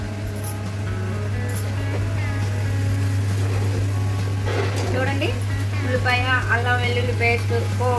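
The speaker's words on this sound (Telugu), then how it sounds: "పేస్ట్, పోపులు అన్నీ వేగాయి అన్నమాట." A paste with tempering spices frying in a pan, a steady sizzle running throughout at moderate loudness, with a person speaking over it in the second half.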